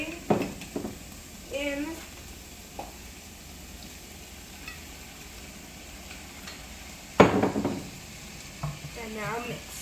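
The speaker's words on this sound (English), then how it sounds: "have to stir it up so it doesn't burn" Vegetable broth soup being stirred in a pot, with a soft constant sizzle and a few sharp scraping bursts of the spoon against the pot; a brief spoken word is heard.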